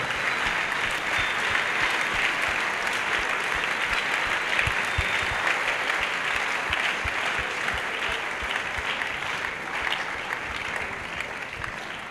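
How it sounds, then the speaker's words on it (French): A congregation at an evangelism and deliverance crusade in Douala applauding together, sustained loud clapping with sharp individual claps standing out, steady and close, with a little speech mixed in. "Now we can clap for the Lord."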